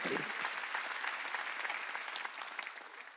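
A congregation at a Wednesday church worship service breaks into applause, a dense, steady clapping that fills the room at moderate volume and tapers slightly toward the end.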